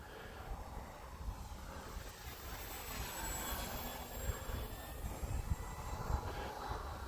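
A radio-controlled model airplane makes a low pass overhead, its steady engine whine sitting under continuous outdoor wind noise with no clear peak, staying fairly distant and even in level throughout.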